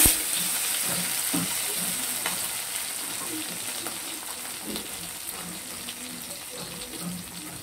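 Diced medium tomato goes into hot oil with a cumin-seed tempering for a katla fish and pointed gourd curry. It sizzles softly and steadily with occasional stirring scrapes, close and fairly quiet, with no talking.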